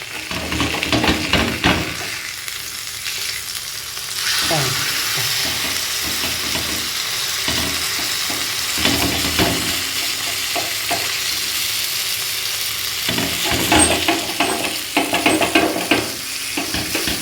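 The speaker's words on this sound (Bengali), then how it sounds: "খুন্তির দ্বারা পুরো মাছটাকে একদম ঘুরিয়ে দিচ্ছি।" Fish sizzling loudly in a frying pan, with scraping bursts as a spatula turns the whole fish over; the crackle holds steady across the stretch and rises in brief scrapes.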